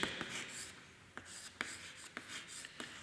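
Chalk or marker strokes on a board during a geometry lesson on perpendicular straight lines, a few soft scratchy scrapes with sharp taps between them, close and quiet in a hushed room with no talking.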